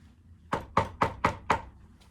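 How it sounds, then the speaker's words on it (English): Five firm knocks on a door in an even, quick rhythm, close and distinct against near silence, followed by a faint sixth tap. "Dana White knocks on Conor McNugget's door"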